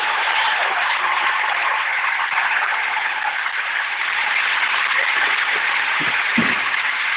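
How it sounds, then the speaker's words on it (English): A church audience claps hands in a dense, steady wash of applause that stays loud throughout, with a few faint thumps near the end. "Oh, you clap your hands now"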